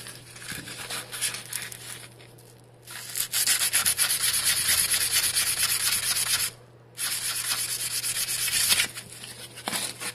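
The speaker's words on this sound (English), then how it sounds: "use that 1000 grit sandpaper and see if that'll speed up the process at all" An aluminum wheel is hand-sanded with 1000-grit sandpaper, kept lubricated with oil, producing a close, continuous scratchy rubbing that stops twice briefly and then resumes.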